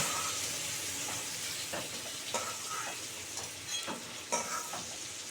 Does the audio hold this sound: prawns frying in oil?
yes